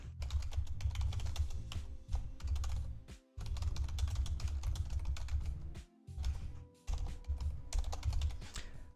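Typing on a computer keyboard, with close, rapid bursts of key clicks broken by short pauses and no speech.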